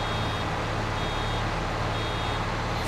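A baler alarm beeps in Farming Simulator 22, a thin steady tone sitting over a loud, constant machinery drone that fills the whole stretch.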